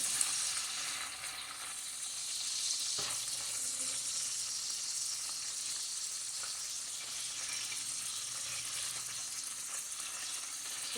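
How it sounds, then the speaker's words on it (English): Beef sizzles and fries steadily in a pan, a constant close hiss that holds evenly from start to finish with no voices. "So just gonna let it cook for a little bit."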